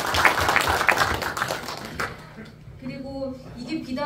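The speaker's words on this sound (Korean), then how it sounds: "다시 한번 박수 부탁드리겠습니다." Dense applause from an audience at a Pocheon city council policy forum on waste management fills the first two seconds, then thins out as a speaker's voice takes over.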